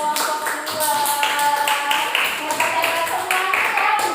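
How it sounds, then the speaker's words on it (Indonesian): A classroom of students claps for a group after a lesson, a brisk, fairly close patter of hands that runs throughout over some light speech. "Tepuk tangan untuk kelompok 2"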